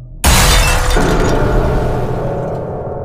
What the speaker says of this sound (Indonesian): Ternyata TV kita yang meledak.